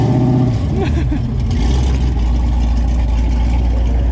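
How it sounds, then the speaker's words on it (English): A loud race car engine rumbles and revs up close while stopped alongside, a deep throaty roar that stays steady and powerful throughout. "Got loud race cars that decide to stop right next to us."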